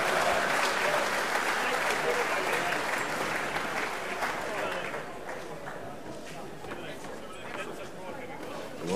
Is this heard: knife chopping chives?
no